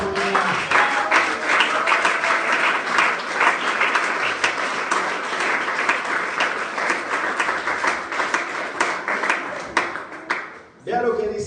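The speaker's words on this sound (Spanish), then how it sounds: "¿Por qué no da un aplauso al Señor en esta mañana?" A church congregation at a Sunday school service applauds, a sustained mass of clapping lasting around ten seconds before breaking off abruptly, followed by a voice.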